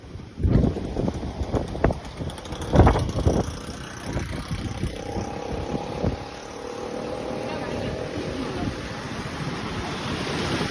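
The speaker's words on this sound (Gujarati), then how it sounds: "પવન એ ખૂબ જ છે એટલે અવાજ થોડોક નબળો આવશે" Strong wind buffets the microphone beside flowing, swirling floodwater after heavy rain, a steady loud rush with bursts of gusting in the first few seconds, and a faint voice in the background.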